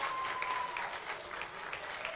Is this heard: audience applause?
yes